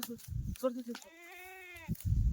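A Kathiawadi goat gives one drawn-out, wavering bleat, close and clear, between bursts of someone talking.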